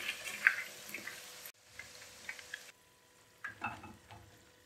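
Chicken pieces fry for crispy honey chili chicken in hot oil over a medium-to-high flame, giving a soft continuous sizzle with brief stirring clinks and bubbling, fairly quiet and close, with no voices.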